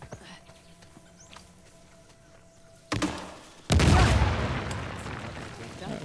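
Grenade launcher in Uncharted: The Lost Legacy firing: a sharp report near the three-second mark, then a louder, booming blast that rumbles and slowly decays, over quiet game ambience.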